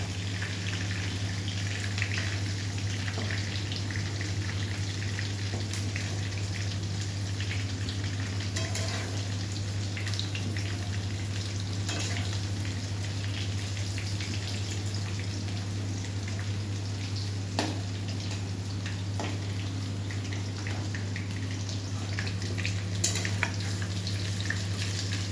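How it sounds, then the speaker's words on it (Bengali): Potatoes frying in a pan give a steady, even sizzle with scattered crackles and pops, over a constant low hum, with no one talking. "জন্য আলুগুলো ভালো করে ভেজে নিচ্ছে এখানে"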